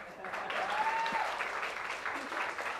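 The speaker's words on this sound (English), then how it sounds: "Huge round of applause for the sister from another mother." Applause from guests at a Malayali wedding haldi event in Mumbai, steady clapping sustained throughout, with background chatter and a brief whistle-like tone mixed in.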